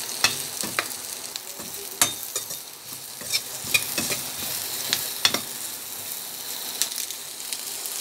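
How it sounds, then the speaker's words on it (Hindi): Capsicum and mixed vegetables stir-fried for chicken Manchurian, a bright steady sizzle punctuated by sharp spatula knocks and scrapes against the pan every second or so, close and fairly loud, with no speech. "इसके बाद इसमें शिमला मिर्च भी डाल देंगे और मिक्स करें।"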